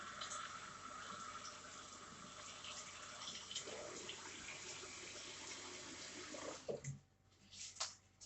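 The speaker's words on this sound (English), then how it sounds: "I'm just using my tap to fill it with hot water here." Hot water running from a kitchen tap into a bowl, a steady broadband rush for about seven seconds that then cuts off, followed by a few faint clinks and handling sounds.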